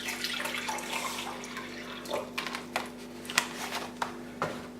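Reverse-osmosis water poured into a clean jug, a soft trickling splash with scattered clicks and knocks, faint and close over a steady low hum.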